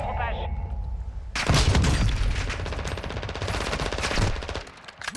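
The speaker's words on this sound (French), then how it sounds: "Je me fais tirer dessus." Sustained automatic gunfire aimed at the player in a video game, loud rapid shots pouring in after a quieter opening with voices, continuing in dense bursts for several seconds with speech mixed underneath.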